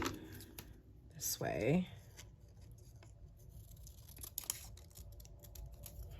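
Scissors snipping through paper florals at a desk, a quick close cut with crisp rustling paper, heard under quiet talk and light handling noises.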